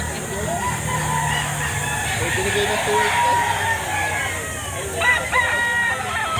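Roosters crow and hens cluck continuously at a chicken market in Lipa, Batangas, mixed with background chatter and voices nearby; a louder crow rises near the end.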